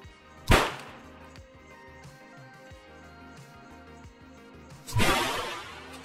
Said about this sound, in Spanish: Pistola traumática contra un melón.